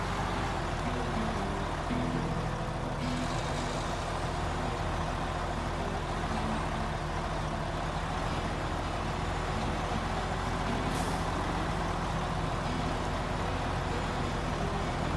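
A Mack truck with its biggest engine rumbles steadily at low revs in a driving video game, a constant heavy drone with a short sharp air-brake hiss cutting in near the end.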